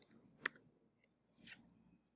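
Keyboard keys pressed for a Control A shortcut while working in Google Docs: a few sharp, quiet clicks, a close pair near the start, a single tap a moment later and a softer cluster after that, with no talking.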